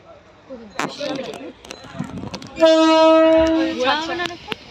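A train sounds its horn loudly near Bagbazar Ghat, one long sustained blast lasting about a second amid station bustle, with people talking and calling out before and after.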